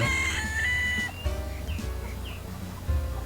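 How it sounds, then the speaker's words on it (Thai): Chickens at a coop on a Roblox game map cluck and cackle close by, with a crow-like call at the start followed by short intermittent clucks. "แลวนี่ก็มีเล้าไก่"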